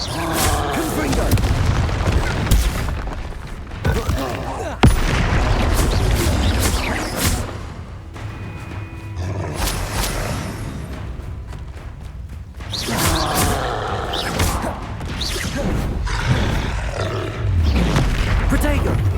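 Blasting-curse explosions in the video game Hogwarts Legacy, a string of loud booming blasts with roaring rumble, recurring in heavy bursts over continuous game noise for nearly twenty seconds.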